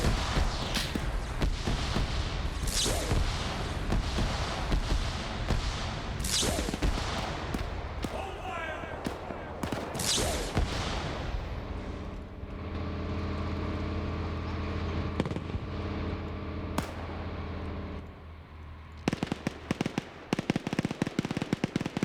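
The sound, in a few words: gunfire from an enemy in an Arma Stargate video game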